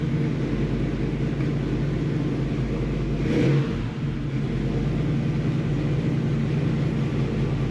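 Carbureted engine idling a little high after carburetor tuning, with the choke being pushed in: a steady, continuous low rumble close by, with a brief dip in the middle, and no talking.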